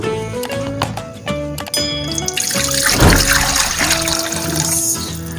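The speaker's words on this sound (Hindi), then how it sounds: "एक पॉट में डालेंगे नीम गर्म पानी" Lukewarm water poured into a cooking pot in a home kitchen, with a brief rush of splashing near the middle over background music tones, close and fairly loud.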